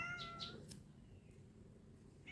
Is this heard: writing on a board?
no